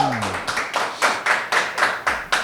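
Audience clapping hands on a game-show stage, about eight distinct claps in a slow, steady rhythm, fairly close and moderately loud, with no talk over them.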